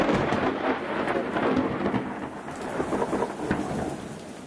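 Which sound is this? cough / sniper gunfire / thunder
thunder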